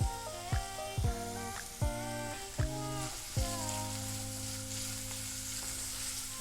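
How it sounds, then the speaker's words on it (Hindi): Onions fry in a pan with a bright, continuous sizzle, and a few sharp clanks and scrapes of utensils sound near the start. "तो इसे हम हल्का हल्का फ्राई करते जाएंगे।"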